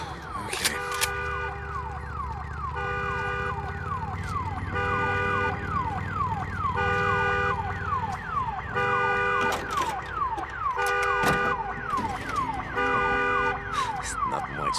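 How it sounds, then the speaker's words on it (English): An alarm siren wailing in Days Gone, a loud electronic tone cycling in fast repeating sweeps and bursts that continues without a break. "Damn alarm."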